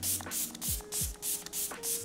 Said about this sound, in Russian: В конце мне хочется еще добавить немножечко спрей-сыворотки от Dalba.